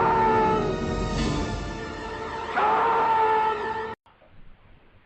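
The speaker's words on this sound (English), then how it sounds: "Then I'm gonna put in the William Shatner scream right now." William Shatner's scream from Star Trek, dropped in as an edited clip: a sustained, strained howling yell with a rising inflection midway, loud and alone for about four seconds before cutting off abruptly into quiet.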